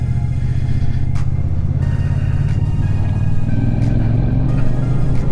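Yamaha MT-07 motorcycle riding on the road while overtaking, a loud steady low engine rumble with a slight rise in pitch and constant road and wind noise, no talking.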